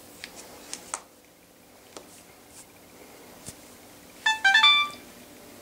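A cell phone gives a quick cluster of bright notification dings near the end, after a few faint clicks and taps in a quiet room.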